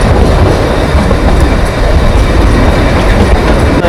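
The Kalka–Shimla toy train rolls along narrow-gauge rails in heavy snowfall at dusk, a loud, continuous rumble with rhythmic clickety-clack from the wheels and no voices.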